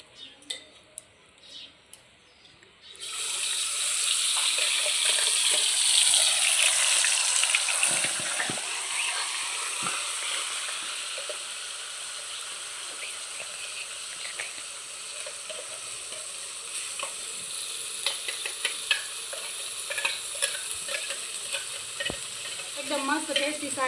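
Gravy poured into a hot cumin and sesame tempering for a Punjabi dudhi kofta curry bursts into loud, sudden sizzling after a quiet start, then settles into a steady bubbling fry with occasional stirring clinks.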